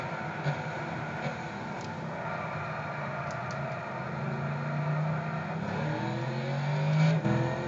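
Engine revving in Gran Turismo 6, a steady droning car engine with rising and falling pitch, growing louder toward the end with a final swell, no talking over it.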